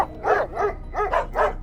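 Dog barking in a series of four quick, close barks with a slightly whimpering, yelping tone, loud and alone against a low background hum.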